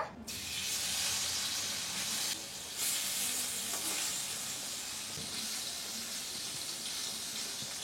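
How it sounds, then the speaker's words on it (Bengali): Shrimp heads fry in hot oil in a wok, a steady close sizzle that holds through with a brief dip in the middle, with no voices over it. "মাছ কটা ভাজা দেব"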